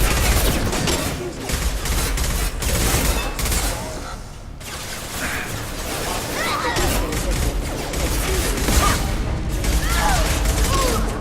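Sustained gunfire from a Mass Effect 2 firefight with hostiles fills the scene, dense overlapping shots and impacts rolling on loudly for several seconds with a brief lull midway.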